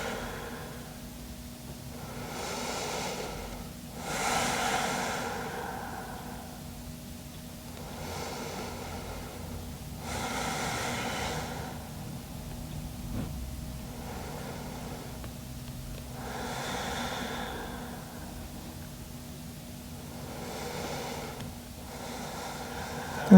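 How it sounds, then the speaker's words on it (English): Slow, deep breathing in a yoga class, with long soft inhales and exhales rising and falling in a steady rhythm over a low, constant background hum. "let's take a couple of deep breaths here. Imagine trying to reach your chest down towards your feet. Slow inhales and slow exhales."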